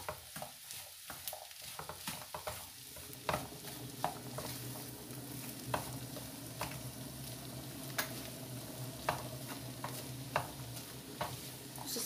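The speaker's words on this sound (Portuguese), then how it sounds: "Dando uma fritadinha, uma refogada no feijão com os temperos" Beans sautéing with seasoned salt and spices in a pan, a constant soft sizzle under periodic sharp clicks and scrapes of a utensil stirring against the pot.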